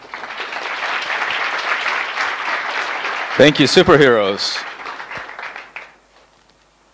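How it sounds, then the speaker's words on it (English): A summit crowd applauds loudly and continuously for several seconds, with someone speaking over the clapping midway, before it fades out into quiet. "Another round of applause"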